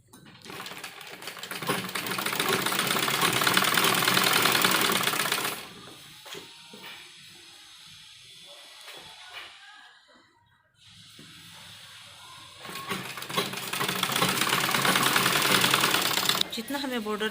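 A sewing machine runs along a folded dupatta border, two long bursts of fast, steady stitching whir separated by a quieter stretch where someone speaks and cloth is handled.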